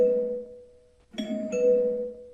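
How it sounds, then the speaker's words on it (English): A doorbell chimes two tones, a sustained ding fading away followed by a brighter second strike that rings on, close and clear in a quiet house. "I'm gonna use the doorbell."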